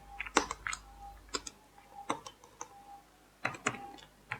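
Keys on a computer keyboard tapped in short, sparse bursts of light clicks separated by pauses, quiet and close, with no talking.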